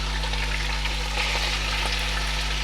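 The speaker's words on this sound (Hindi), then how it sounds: "चिकन डाल के इसे फ्राई करूँगी।" Chicken pieces for nihari fry in oil in a pan, giving a steady, close sizzle and crackle with a constant low hum beneath and no talking.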